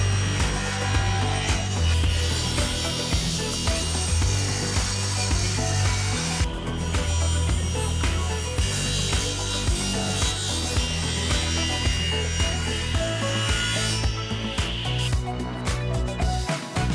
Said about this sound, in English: I ripped strips of walnut, padauk, and maple to make this thing a little fancier.